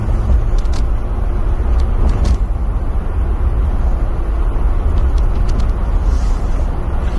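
Steady loud engine and road rumble from a JL Jeep Wrangler Sahara driving through corners, a continuous low drone heard from inside the cabin with faint brief clicks.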